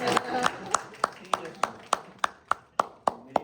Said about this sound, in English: Let us clap for this guy, man.